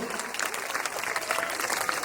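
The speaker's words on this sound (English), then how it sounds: "Give him a big round of applause, all of you." Audience at a school Republic Day celebration clapping steadily, a dense even patter of many hands held at a constant level throughout, with no voices rising above it.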